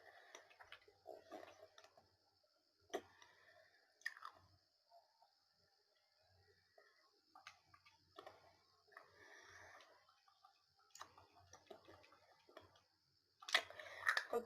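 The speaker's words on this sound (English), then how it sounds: "if you hear chewing in the background" Quiet, wet chewing and mouth clicks come from someone eating off to the side, scattered irregular smacks and soft crunches in a hushed room with a faint steady whine, louder toward the end.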